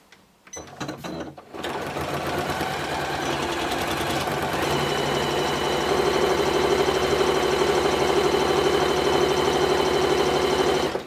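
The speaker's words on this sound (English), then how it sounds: "this Janome Atelier 9 copes really well. And I'm just going to do a 1 centimetre seam allowance all the way around the stocking" A Janome Atelier 9 sewing machine stitches a seam around a stocking, its steady rapid needle chatter starting after a brief pause and continuing loud and close, speeding slightly toward the end.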